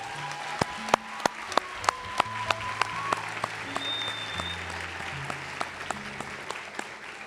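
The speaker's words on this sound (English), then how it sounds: "Let's give all the students a round of applause one more time." A crowd at a nursing white coat ceremony gives all the students a round of applause, continuous dense clapping with sharp individual claps standing out near the microphone.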